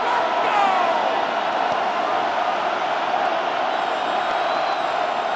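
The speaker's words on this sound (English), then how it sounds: "This crowd into it now as we get to third down." A dense, steady stadium crowd roar fills a football stadium in the video game Madden NFL 26, continuous and loud throughout with no breaks.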